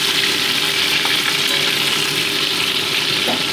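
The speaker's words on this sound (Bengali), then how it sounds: "তো মাছগুলো দেখো উল্টে পাল্টে আমি ভেজে নিচ্ছি।" Tilapia pieces frying in mustard oil in a kadai as they are turned over, a loud, steady sizzle and crackle with occasional sharper pops, heard up close without speech.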